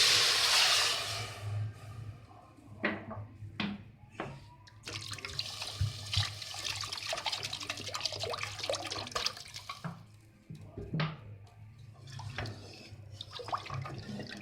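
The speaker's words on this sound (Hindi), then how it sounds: "अब हम इसमें तकरीबन 1 लीटर पानी डालेंगे।" About a litre of water is poured into fried masala for whole masoor dal, a gushing splash that settles into a steady hissing, bubbling wash with a few clinks from the pot.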